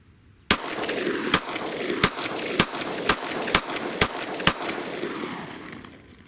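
Glock 43 pistol firing Wolf steel case ammunition, nine sharp loud shots in a fairly even rapid sequence about half a second apart, close by, with brief echo between reports.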